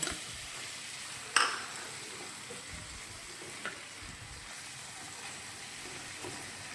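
Ground chickpeas stirred and roasted in a pan for Lahori chole, a continuous soft sizzle with one sharp clink of a utensil early on and a few fainter scrapes later, no speech.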